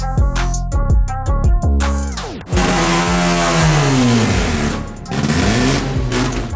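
A Kei truck's rebuilt rotary engine buzzes in rapid pulsing bursts, then revs up hard and sweeps through rising and falling pitch, loud and close.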